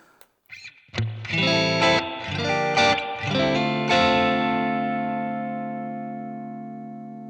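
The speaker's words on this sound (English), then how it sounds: "let's just get a bit of a spring reverb going" Electric guitar chords played through a Boss ME-90 multi-effects unit on a tweed amp setting, strummed a few times, drenched in splashy spring reverb that lets the final chord ring out and slowly decay.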